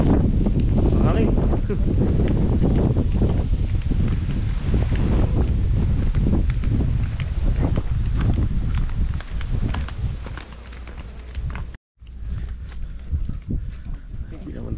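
Wind gusts across a hillside on Mount Banoy in Batangas City, buffeting the microphone with a loud, steady roar that drops out briefly near the end.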